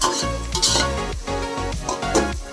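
Onions and fresh mint fry in a pan while being stirred, with a steady sizzle broken by a few rhythmic stirring scrapes, close and clear.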